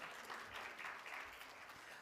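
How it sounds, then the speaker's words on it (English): Plenary audience at the UNA-USA 2022 Leadership Summit clapping, a steady, faint spread of many hands from a large hall lasting about two seconds with no voices over it. "yes, you can clap for that."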